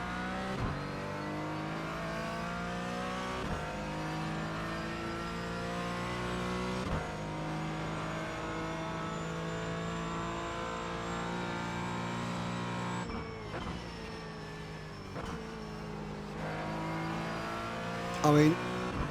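GT4 race car in iRacing, its engine holding a steady high-revving drone with shifting harmonics across a lap, with brief gear-change dips and occasional tire noise, continuous and close, with talk over it.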